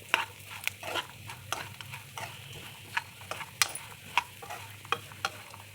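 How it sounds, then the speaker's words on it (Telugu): Coconut chutney ingredients frying in a pan with a pinch of turmeric, with soft sizzling, scraping and stirring, and sharp clicks of a spatula against the pan at irregular intervals. "చిటికెడు పసుపు వేసుకొని మొత్తం కలిసేలాగా వేయించుకోవాలి."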